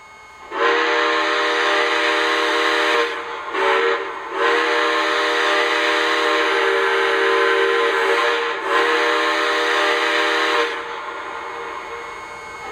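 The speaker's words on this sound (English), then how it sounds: "here's that great whistle I was telling you about. This is one of my favorite whistles on any of my engines." A Lionel Southern Crescent model steam locomotive sounds its electronic steam whistle: a loud, sustained multi-tone chord in several long blasts with short breaks, heard alone without talk.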